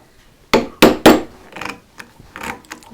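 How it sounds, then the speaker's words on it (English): Wooden mallet-style taps on a woodcarving tool handle while shaping the hole to change the handle, three sharp close knocks in quick succession followed by several lighter ones. "Little tap, about 2 or 3 millimeters, 1/8 of an inch only. Turn it, tap out the waste"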